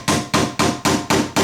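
An awl driven with a hammer to punch holes for skewers in a Halloween carnival ride craft, struck in six sharp, evenly spaced blows, loud and close, each decaying quickly, with no talking.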